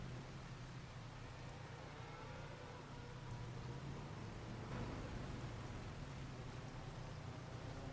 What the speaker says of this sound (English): I think this rain's settled in for quite a while